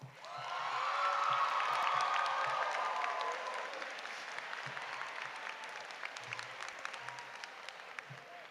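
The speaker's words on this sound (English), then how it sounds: "Graduates, please help me thank your parents, teachers, friends, and family with your applause." Graduation audience at a high school commencement applauding, a dense wash of clapping that swells in the first seconds then slowly thins, with a few scattered voices and cheers mixed in.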